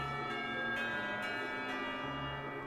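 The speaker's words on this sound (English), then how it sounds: "The school bell rings out, reminding us that time isn't going to stand still" A school bell in the visual novel Katawa Shoujo rings as one long, steady chime with sustained metallic overtones and faint repeated strikes, fairly quiet and heard alone.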